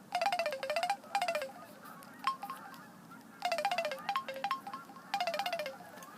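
A Samsung Juke phone that has just been drop-tested plays its ringtone: bright, repeated bursts of rapid beeping tones in clustered phrases with short pauses, loud and close against a quiet background.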